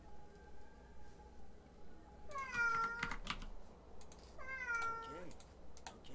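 A cat meows twice nearby, drawn-out wavering cries with a short gap between them, over faint clicking from a computer keyboard.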